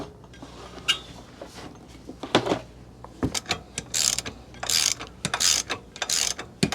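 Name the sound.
ratchet undoing wheel bolts on BMW R motorbike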